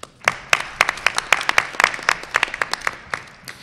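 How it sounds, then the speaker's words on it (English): Applause at a school board meeting for students from a high school's annual musical production: a smallish group claps close by in brisk, uneven bursts, individual claps distinct, tapering off toward the end. "Let's give the people who participated in Cats this year, our annual musical at Hillsborough High School, a big round of applause."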